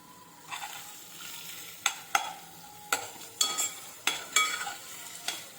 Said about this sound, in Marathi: आता आपण टाकतोय त्यामध्ये भरपूर असा कांदा